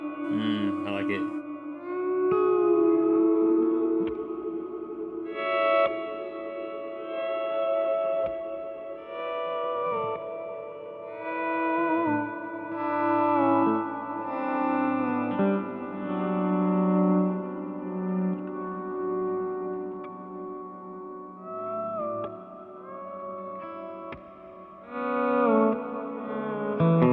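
Sustained tones pass through an Ibanez SDR-1000+ digital reverb set to a very long decay of about ten seconds, leaving dense, washy tails that smear and overlap continuously for the whole stretch at steady, fairly loud level.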